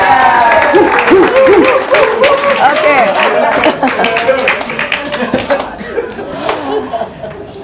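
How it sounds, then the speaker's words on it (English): Audience applause and laughter at a sales mastermind seminar, a loud burst of clapping mixed with chuckles and crowd voices that gradually thins out toward the end. "Let's give her another round of applause."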